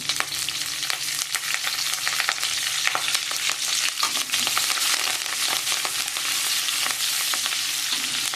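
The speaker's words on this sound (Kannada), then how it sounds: "ಬೆಳ್ಳುಳ್ಳಿ ಹಾಕ್ತೀನಿ ಕರಿಬೇವು ಹಾಕ್ತೀನಿ" Garlic and curry leaves sizzle in hot oil for an okra gojju, a close, dense frying crackle with quick popping spits, steady and loud throughout with no voices.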